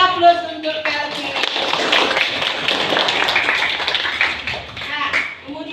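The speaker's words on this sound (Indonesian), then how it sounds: "Kita berikan aplaus untuk Kelvin" A class of pupils applauds one of their classmates in a school classroom, with a sustained burst of many hands clapping close by, rising and then tapering off, and a teacher's voice heard at the start and end.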